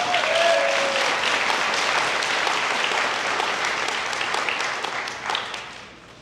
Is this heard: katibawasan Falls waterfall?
no